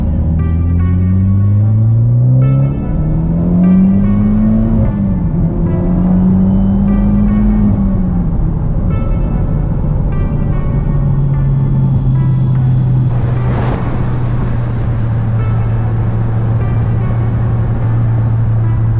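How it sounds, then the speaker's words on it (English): A Mitsubishi Evo 10 on new springs accelerates hard, its engine tone climbing through the revs before settling into a steady cruising drone, heard loudly from inside the car with no talking. "I'm gonna go rip the car around a little bit, make sure everything's good, make sure we don't got any clunks"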